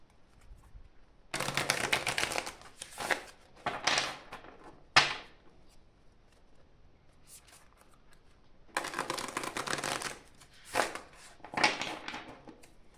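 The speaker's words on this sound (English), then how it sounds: "So let's go for the tarot cards." Tarot cards shuffled by hand in several bursts of crisp riffling and flicking, close and fairly loud, with short quiet pauses between the bursts and no talking.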